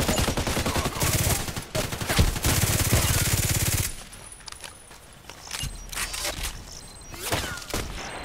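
Pistol gunshots in a sniper video game, a loud rapid string of cracks for several seconds, then sparser, fainter shots and clicks over a lower background.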